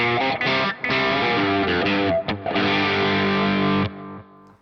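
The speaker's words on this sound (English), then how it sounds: "I have a 70s sort of analog delay going on for my lead tone." An electric guitar plays a lead line through a Nux Cerberus ampless rig with distortion and a 70s-style analog delay, its sustained overdriven notes loud and close, with short gaps between phrases and a ringing tail at the end.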